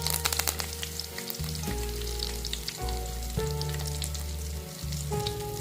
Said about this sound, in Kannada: ಚಟಪಟ ಅಂದಮೇಲೆ ಅದಕ್ಕೆ ಜಜ್ಜಿರೋ ಬೆಳ್ಳುಳ್ಳಿ ಹಾಕಿ ಸ್ವಲ್ಪ ಕರಿಬೇವು